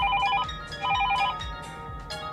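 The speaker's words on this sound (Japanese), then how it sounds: "電話がかかってきた。" A telephone rings indoors with a repeating electronic trilling bell in short bursts, loud and close, with faint low thumps beneath and no voices.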